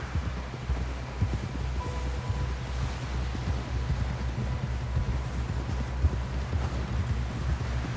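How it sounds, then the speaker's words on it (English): Horse hooves clip-clop steadily in Red Dead Redemption 2, a walking rhythm of soft thuds close by, with a faint outdoor rustle behind and no speech. "Someone help John down off this horse."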